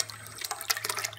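Water rushes from a broken-off valve in a short, close, splashy burst of gushing and sputtering, like a drinking fountain spraying, with no voices.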